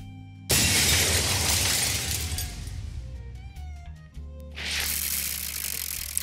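Glass shatters in the video game The Sexy Brutale, a sudden loud crash followed by tinkling fragments and a ringing tail, then a second burst of noisy crunching.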